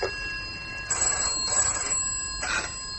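A telephone bell rings in repeated bursts inside an office setting of a radio drama, loud and close, with no talk over it.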